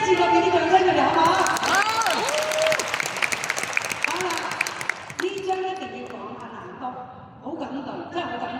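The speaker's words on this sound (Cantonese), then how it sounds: "一次過俾啲掌聲佢哋好唔好？" An audience at a leadership gathering applauds, a broad wash of clapping that swells and then fades, heard together with a loud voice speaking over an amplified system.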